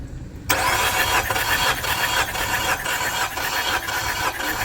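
A Nissan Rogue engine with exhaust valves that were jammed and not adjusted cranks and catches after a short quiet lead-in, then runs on loudly and steadily with a rough, rhythmic pulsing idle.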